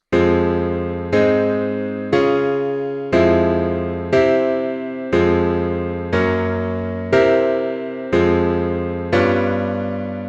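A sequence of sustained synthesized chords, each struck every second or so and decaying before the next, changing harmony in a steady progression.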